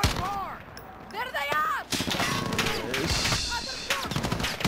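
Bursts of gunfire from behind in Modern Warfare's campaign crack and rattle through a busy mix, with a voice talking in Hindi over parts of it.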